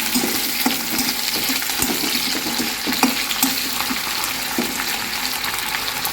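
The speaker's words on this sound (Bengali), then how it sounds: "এখন শুটকিগুলি দিয়ে দিচ্ছি।" Dried koi fish shutki sizzles and fries in hot oil with already-fried onions, a steady crackling hiss broken by occasional sharp pops and the scrape of stirring, close and loud with no talking.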